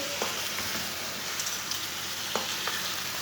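Garlic and onion frying with gosht (meat) in a pan: a continuous close sizzle with a few sharp stirring taps and scrapes, no voices.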